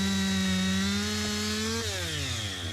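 A chainsaw bores into a tree trunk on a cutting day, its engine a loud, steady buzzing whine close by that holds pitch, then drops lower as the bar bites deeper into the wood; no one speaks.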